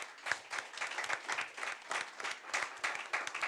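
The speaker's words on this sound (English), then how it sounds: "A round of applause for our finalists." An audience at a debate and impromptu speaking competition final applauds the finalists with steady, fairly faint clapping that carries on throughout, with no talk over it.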